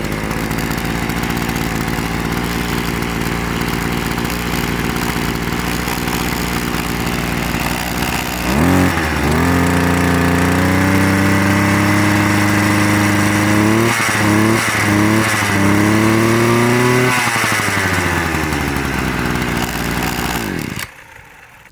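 A Parkside PPBS 3 A1 petrol brush cutter engine runs close and loud, first at a rough, buzzing idle, then revved in several rising, falling bursts before settling and cutting off abruptly at the end.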